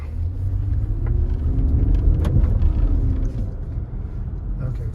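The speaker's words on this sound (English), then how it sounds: "I want you to hear the engine." A Nissan Pathfinder or Toyota Highlander engine runs with a steady low rumble, heard from inside or beside the SUV, swelling slightly midway with a brief rising whine before easing back.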